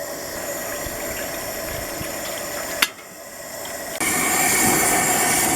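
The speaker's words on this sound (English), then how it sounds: "our water's starting to boil." Water heating toward a boil in a pot on a camp stove for cowboy coffee, a steady loud hiss and bubbling roar with a brief click midway, then a louder, brighter hiss.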